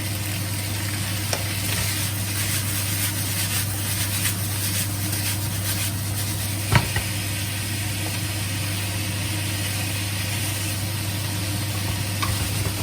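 Beef fries in a pan with ginger, garlic and chilies for salt and chilli beef, sizzling steadily close up over a constant low hum, with occasional stirring scrapes and one sharp clack.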